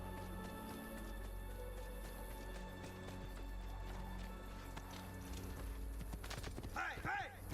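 Rhythmic clip-clop of horse hooves trotting over a steady background hum in the video game Assassin's Creed 2, with a brief burst of sharper sounds near the end.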